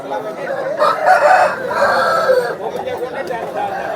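A rooster crows once at a Vijayawada poultry market, loud and close, its call stretching over a couple of seconds against a busy background.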